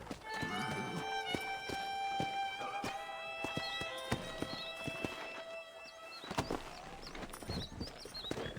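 Horse hooves clip-clop steadily at a walk in Red Dead Redemption, close and fairly quiet, with tack jingling and birds chirping in the background.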